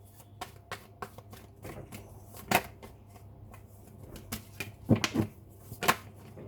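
Tarot cards shuffled by hand at close range, a run of crisp riffling snaps and slaps in irregular bursts, with a few louder clusters toward the end.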